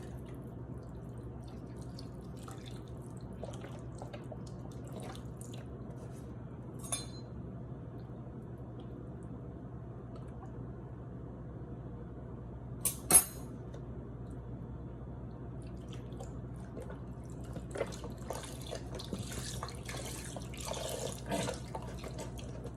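Beef broth from a full box poured over steak in a pan for oven baking, a steady low liquid trickle with scattered drips and clinks, quiet and close, with no talking.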